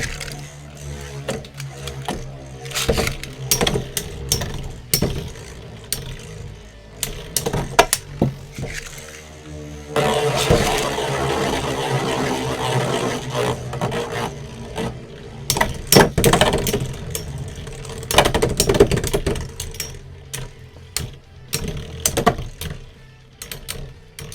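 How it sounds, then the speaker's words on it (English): Beyblades clash as Variares, a mid fake version in left spin attack mode, battles Rock Leon: dense rattling clicks and scraping throughout, with a louder, busier burst of collisions partway in. "we're going to be using VARIARES, the mid fake version this time, again in left spin attack mode against Rock Leon guys"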